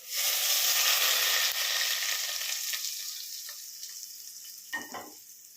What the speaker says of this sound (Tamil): இப்போ எண்ணெய் சூடாகிடுச்சிங்க, இதில் ஊற்றிக்கலாம்.